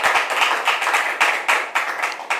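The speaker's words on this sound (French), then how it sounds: "Allez, public, merci de le recevoir sur vos applaudissements." A studio audience claps in welcome as a guest arrives on a talk show set, the applause steady and close, broken by sharp, regular accents and carrying no voices.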